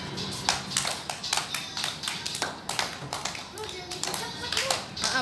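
Hands clapping in steady rhythm for the Acehnese dance Tari Bungong Jeumpa, repeated sharp claps moving between low, middle and high positions, fairly close and even, with children's voices murmuring underneath.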